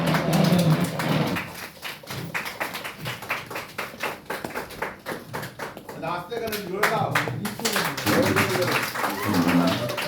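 Applause from a gathered crowd welcoming the secretary at a Bengali community event, a dense run of hand claps lasting throughout, mixed with voices talking over it.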